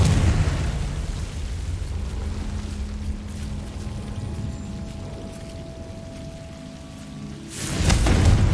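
The Confringo fire spell in Hogwarts Legacy bursts with a loud rumbling blast at the start, decays into a long hissing, crackling rumble, then another heavy burst erupts near the end.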